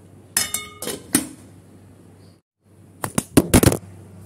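A metal lid goes onto a cooking pot of potato and egg curry, with several sharp clinks and clatters, a brief silence, then a second cluster of ringing knocks as it settles.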